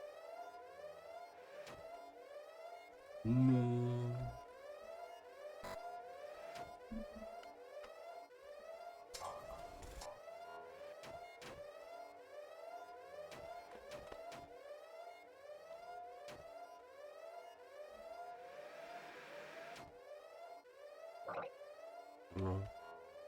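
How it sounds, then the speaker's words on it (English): A repeating wailing alarm siren from the game Everhood 2 sweeps up and down in a steady cycle throughout, with scattered thumps and a brief spoken word over it. "The alarm's on again."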